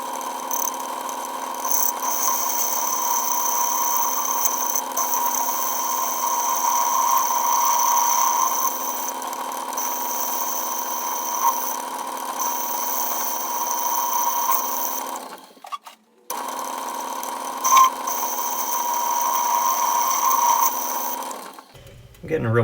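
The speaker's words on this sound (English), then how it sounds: "now I just have a threading tool, put it the right angle so I can just kind of open up that recess" A lathe threading tool cuts a recess in metal on a 1953 Chevrolet 210 lowrider part, giving a steady whining hum with a high tone that runs continuously, briefly stopping once before resuming.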